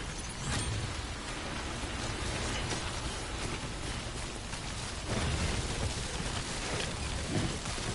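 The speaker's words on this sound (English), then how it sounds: "The rain is making everything sort of slipperier." Steady, dense rainfall (timefall) in the video game Death Stranding, a broadband hiss of drops pattering on surfaces with occasional louder splashes, continuous and close for the whole stretch with no voices.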